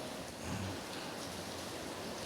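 Steady rain falls in the evening, a dense even hiss of drops on surfaces that is continuous and moderately loud, with no voices.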